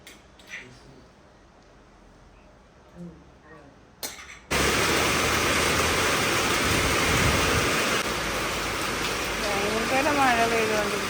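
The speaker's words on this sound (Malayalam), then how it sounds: "പുറത്ത് നല്ല മഴയായിരുന്നു കേട്ടോ" Heavy rain pours down outside. After a few quiet seconds with faint room sounds and voices, a loud, steady downpour begins abruptly and keeps going to the end.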